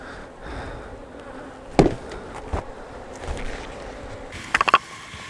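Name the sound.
bees buzzing around a nuc beehive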